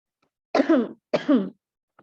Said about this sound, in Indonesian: Ibu baru habis pasca COVID, jadi masih batuk-batuk